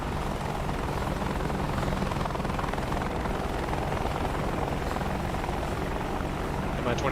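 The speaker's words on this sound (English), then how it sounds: "See if he's able to see the enemy helicopters approaching." A Mi-24 helicopter in a video game flies over a town, its dense rotor drone running steadily throughout as a continuous wash of noise.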